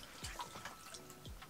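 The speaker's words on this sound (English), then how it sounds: "I'm just gonna put them in the bucket of water." Jumbo perch caught ice fishing and dropped into a bucket of water: a few soft splashes and drips over about a second and a half, faint and close, with no talk.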